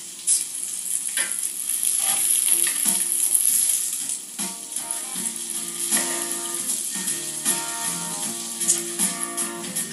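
Breadcrumb-coated turkey escalopes sizzle in a pan, a loud steady crackle that swells for a few seconds, then settles into a softer sizzle with faint clinks.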